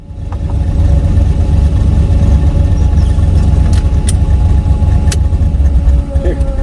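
A turbocharged Chevrolet Nova engine warms up at a steady idle, a loud, continuous low rumble running through the whole clip.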